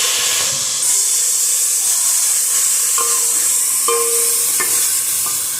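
Three chopped onions fry in a little oil for a chicken broth, giving a loud, continuous close-up sizzle and hiss with a few clinks of a spoon stirring the pan, and no talking.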